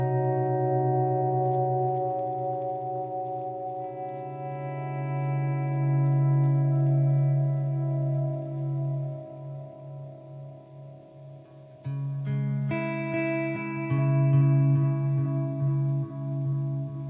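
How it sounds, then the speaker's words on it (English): A sustained electric guitar chord through a UAFX Galaxy '74 tape echo and reverb pedal rings out with a lush echoing, chorused wash, then a new chord is struck and blooms with trailing repeats and reverb. "We've got the Galaxy 74 tape echo and reverb"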